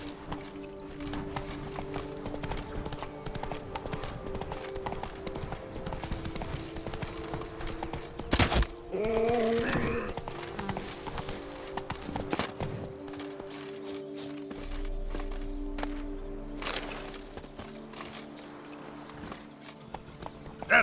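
Roach, a horse in The Witcher 3: Wild Hunt, gallops with steady clip-clop hoofbeats running throughout, joined by a brief whinny near the middle over a busy backdrop of game music and ambience.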